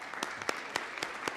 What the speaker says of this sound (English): That's a nice applaud for Mr. Marks.